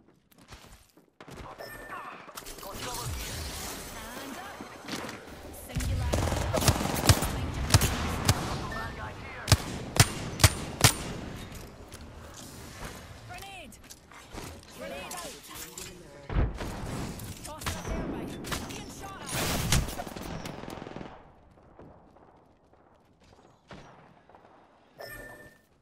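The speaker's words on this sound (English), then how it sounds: "They're shooting at me!" Gunfire in an Apex Legends match comes in loud, dense bursts of sharp cracks and thuds, heaviest through the middle before thinning out toward the end, with a player's voice speaking over the shooting.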